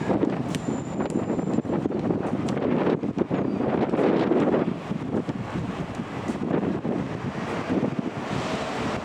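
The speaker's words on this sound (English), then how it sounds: "Very windy, as you can tell." Strong wind buffets the microphone in heavy, continuous gusts in Belfast, roaring and rumbling loudly with no voices present.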